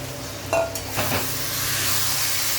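Boiled raw chickpeas go into a hot pan and fry, a short clatter and splash followed by a steady close sizzle.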